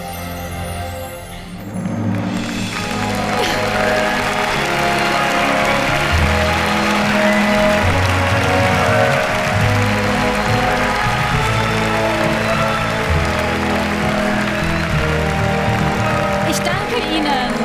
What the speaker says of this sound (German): Ich danke Ihnen für diesen animalischen Applaus.